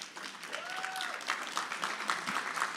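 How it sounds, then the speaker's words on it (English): An audience at a South Bay assembly luncheon claps in steady applause that continues for a few seconds at a moderate distance, with a voice briefly heard over it. "Let's give Jackie another round of applause."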